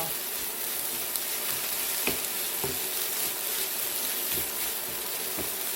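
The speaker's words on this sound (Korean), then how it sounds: "3분 정도 충분히 볶아준 다음에는 대파를 넣고 볶아줄 거예요" Rice with green onion stir-fried in a pan gives a steady, even sizzle throughout, with a few soft taps and scrapes of a utensil against the pan and no talking.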